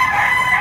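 Brief, loud and close, a Gilmore gamefowl bull stag at a fighting-cock sale in Lipa, Batangas lets out a single strained crow.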